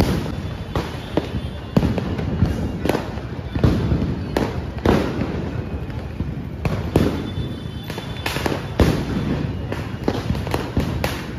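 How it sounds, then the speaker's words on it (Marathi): Diwali firecrackers burst repeatedly through a festive morning in Shivdi, Mumbai: a quick, irregular string of sharp, loud bangs over a constant crackling background. "फटाके वाजतात"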